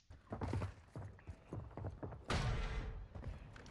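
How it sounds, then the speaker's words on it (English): Enemy footsteps in a video game as an opponent pushes forward: a run of quick, uneven thumping steps at moderate distance, followed by a louder scuffling burst partway through. "Footsteps. Pushing."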